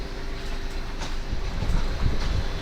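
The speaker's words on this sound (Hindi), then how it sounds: "एक्सप्रेस ट्रेन प्लेटफार्म पर जाती हुई।" The Bhagat Ki Kothi Dadar express rolls along a station platform in India, with a steady low rumble and faint rhythmic clatter of wheels that builds slightly, nearby and continuous.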